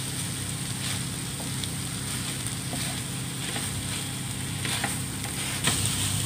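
Chicken and shredded cabbage sizzle loudly in a pan on the stove while a utensil stirs through them, with the steady frying hiss broken by occasional scrapes and clinks, close and continuous.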